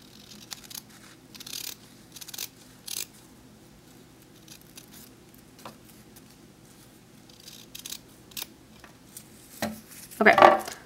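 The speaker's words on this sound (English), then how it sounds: "you're going to cut along the line" Scissors cut satin ribbon along a traced line in a few short, crisp snips with quiet pauses between them and a louder burst of snipping at the end, with no voices.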